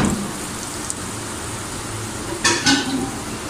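Onions frying in melted butter in a pan for pav bhaji, a steady, fairly quiet sizzle and crackle throughout, with a brief clink of a utensil against the pan near the end.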